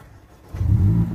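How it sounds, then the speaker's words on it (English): A 2018 Mercedes-Benz CLA45 AMG fires up from its push-button start: a brief quiet, then the engine catches with a loud, deep rumbling flare that settles into a steady idle, close by. "So now let's start the car."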